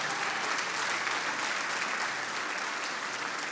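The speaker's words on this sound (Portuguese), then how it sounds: "Come on, alguém aplauda bem forte o Mestre Jesus." A church congregation applauds loudly for Jesus, a sustained, dense roar of many hands clapping at steady volume with no pauses.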